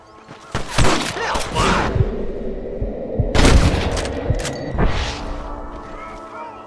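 Gunfire at cattle rustlers in Red Dead Redemption, a few sharp shots cracking out over a steady rumbling game background.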